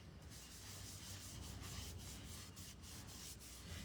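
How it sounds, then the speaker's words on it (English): Sandpaper rubs back and forth over waxed painted wood, a soft, close, continuous rasping with faint rhythmic strokes and no talk. "because you're sanding it back, you're basically opening up the paint again and also the wood"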